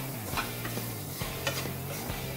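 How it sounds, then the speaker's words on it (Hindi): Roasted chickpeas tossed with salt, red chili powder, cumin powder and chaat masala sizzle in a pan, with repeated close scraping strokes of a spoon against the metal and no talk. "ये 3-4 मिनट हमने चने को अच्छे से भून लिया है।"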